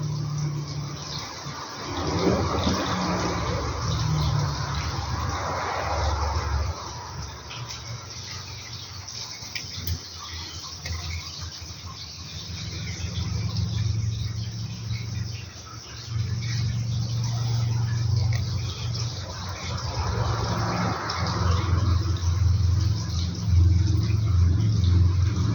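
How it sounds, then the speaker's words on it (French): An old diesel truck engine idles nearby with a low, rough rumble that swells and eases over time, running continuously without any talking. "On a un vieux camion diesel"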